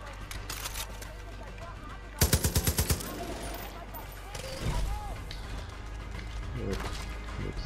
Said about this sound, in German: Oh, ein MG-Schützen hier.